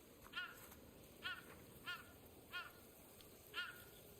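A crow in the video game Ghost of Yotei caws five times at a steady, slightly irregular pace, moderately distant and fairly faint over a quiet outdoor ambience, with no talking.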